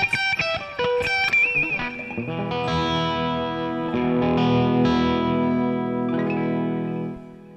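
High strings on a Jackson JS22 electric guitar ring out through distortion and chorus effects, starting with quick plucked notes and settling into loud sustained, shimmering chords that fade at the end.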